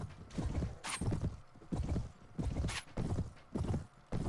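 Horse hooves gallop in the Mount and Blade video game, a steady, rapid clip-clop rhythm of repeated hoofbeats, moderately close, with occasional faint clanks.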